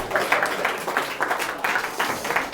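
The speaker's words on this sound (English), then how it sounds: "But I know you are clapping." A wedding audience claps steadily during a speech, a dense, even patter of many hands heard fairly close, with no talking over it.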